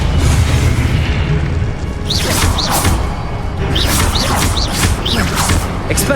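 A fiery Confringo explosion spell cast during combat in the video game Hogwarts Legacy: loud, sustained blasts and rumbling booms mixed with whooshes and bright chirping magical sweeps, with no talking.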